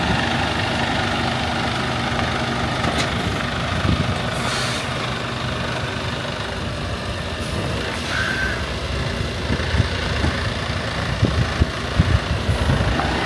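A truck engine idles steadily through a driving-school lesson on a gravel lot, the heavy diesel rumble constant throughout with a brief air-brake hiss partway in and scattered crunches and clicks near the end, no talk.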